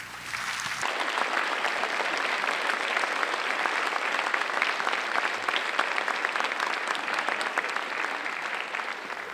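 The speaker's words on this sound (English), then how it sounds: "Please give them a round of applause." A science fair awards audience gives a full round of applause for the fair coordinators, dense continuous clapping at steady loudness throughout, a crowd roar without speech.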